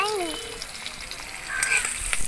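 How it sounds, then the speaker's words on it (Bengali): Green chillies and garlic cloves fry in hot oil in a home kitchen, a soft steady sizzle running underneath while someone speaks over it. "দুটো কাঁচা লঙ্কা আর কয়েকটা রসুনের কোয়া নিয়েছি, এই কটা ভেজে নেব"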